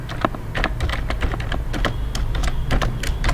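Fingers type on a computer keyboard in quick irregular bursts of close, crisp key clicks over a steady low hum, with no voices.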